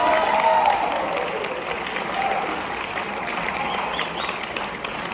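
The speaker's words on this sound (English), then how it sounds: "So give them a round of applause for that." School assembly crowd applauding a state champion 2A girls basketball team, a sustained wash of many hands clapping, moderately loud, with a few scattered voices in the crowd.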